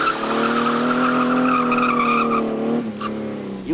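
A 20-year-old classic Ford Capri in Kent accelerates hard, its engine note rising loud and close through the gears while the tyres squeal, then the roar cuts off abruptly near the end.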